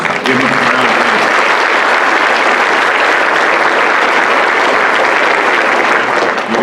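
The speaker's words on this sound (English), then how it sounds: "Give them a round of applause." Audience at a police academy graduation ceremony breaks into loud, sustained applause, a dense steady roar of many hands clapping that fills the hall, with a brief voice at the very start.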